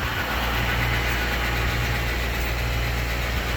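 A big tractor's engine drones steadily through a ride, a continuous low rumble with a constant mid-range hum and no change in pace or loudness, heard up close from the cab with no talking.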